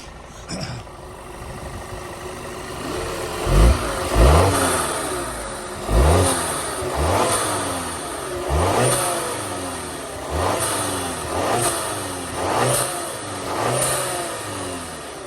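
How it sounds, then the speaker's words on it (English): A 2009 Volkswagen Tiguan SE 4Motion's turbocharged engine revs up repeatedly in short bursts, each rise in pitch falling back toward idle, steady and close by. "Let me rev it up a little bit for you."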